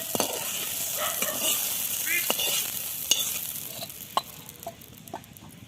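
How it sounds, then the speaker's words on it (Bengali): Potato pieces fry lightly in oil, making a steady crackling sizzle broken by sharp utensil taps and stirring scrapes against the pan. "এরপর আলুটা একটু হালকা ভেজে নেব।"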